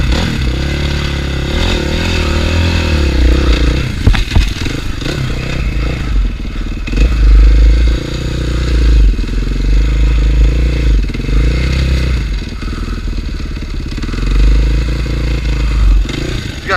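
Motorcycle engine that sat unused for six months, running steadily in first gear with a loud, continuous low rumble and uneven rattling clatter throughout, no talk over it.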